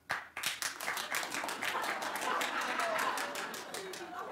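Clapping breaks out from a talk-show studio audience, starting abruptly and settling into dense, rapid applause that holds steady throughout.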